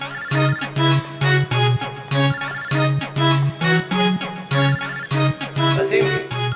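A melodic phone ringtone plays loudly in repeated bursts, a cycling electronic tune with steady pulses and no voices.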